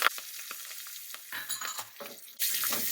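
Mustard seeds, chana dal and urad dal splutter in hot oil, a dense crackling sizzle with scattered pops and stirring that swells louder near the end.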